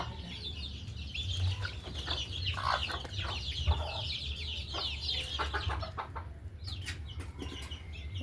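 Chickens and chicks kept in a cage cluck and chirp close by in a busy, uneven stream of short calls, with no one speaking.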